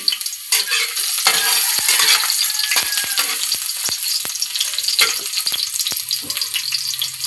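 Chopped onion and garlic sauté in hot oil in a pan for an adobo, sizzling steadily while a utensil stirs and scrapes in repeated sharp clacks, close and continuous with no talking.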